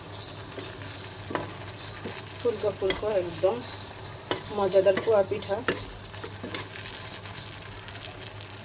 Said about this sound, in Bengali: আস্তে আস্তে করে পিঠাগুলো সুন্দর করে ফুলকো করে পিঠাগুলো ভেজে নেব।